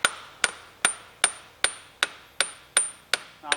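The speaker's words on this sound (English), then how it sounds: "what we are going to do is hit this slightly with a hammer" A hammer lightly taps a Ford Mondeo drive shaft, with its nut fitted on the end, into place in a garage, making nine sharp metallic strikes at a steady, even pace, close and clear.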